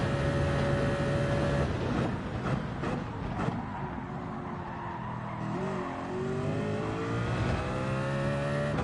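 Car engine in Gran Turismo 7 racing, revving hard and rising in pitch as it accelerates, with gear changes and brief tire squeal, loud and close throughout.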